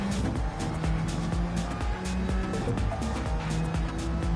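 Race cars in a sim racing GT series round, engines droning loudly and continuously with rising and falling revs as cars accelerate and shift, dense overlapping motor noise throughout.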